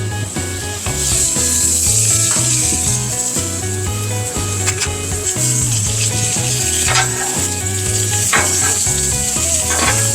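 Onions, jalapeños and chilies cooking in oil on a flat-top griddle while making bacon smash burgers, with a strong continuous sizzle, close and loud, under a bed of background music.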